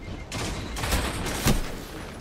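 Video game gunfire in a sci-fi shooter with a burst of loud, close shots. Several sharp blasts sit over a dense, noisy background, with one strong report near the end.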